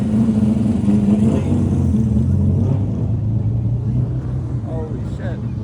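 A Mazda RX3 GT rumbles and revs from inside the cabin while driving, the engine climbing then easing off, with voices talking over it.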